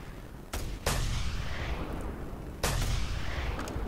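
Two loud, sharp sniper rifle shots ring out about two seconds apart in the video game Just Cause 2, each followed by a long, rolling echo.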